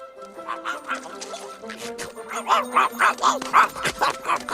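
A dog barks in a scene from the animated Pocahontas film, a run of sharp repeated yaps that grows louder and more rhythmic toward the end, mixed with other soundtrack sounds.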